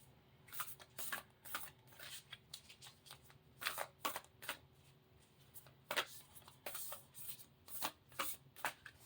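Repeated riffling and snapping of large, stiff cards being shuffled, in uneven bursts close by, with no talking.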